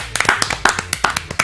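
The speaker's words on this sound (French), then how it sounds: "Ça s'applaudit, s'il vous plaît." Sparse, uneven handclaps from a small audience ring out close and sharp, a few people clapping irregularly for a TV series creator over about a second and a half.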